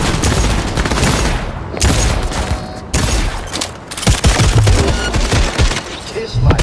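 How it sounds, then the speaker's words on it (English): A gunfight on the streets of Night City in a video game, with loud, close bursts of rapid gunfire and sharp single shots broken by brief pauses, and no talk. "Ooh, gunfight."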